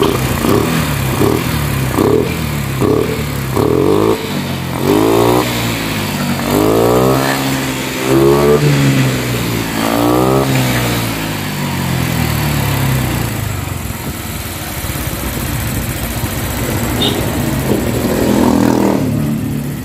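Honda Vario 150 scooter engine revved up and down repeatedly, a buzzing small-engine note rising and falling in quick blips and then longer pulls before settling to a steady idle, loud and close.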